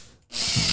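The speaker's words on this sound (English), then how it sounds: "this is a drill" A power drill spins up after a brief near-silent pause, then holds a loud, steady, close whir for the rest of the short moment, with no talking.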